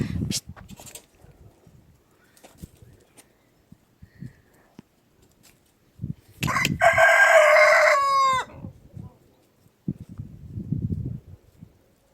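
Roosters crow in a village in the morning, one loud nearby crow standing out after faint distant calls, amid quiet footsteps and scattered rustling.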